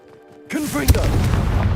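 Confringo blast spell in Hogwarts Legacy going off as a loud boom with a sharp crack, then a rumbling, crackling roar that fills the rest of the moment.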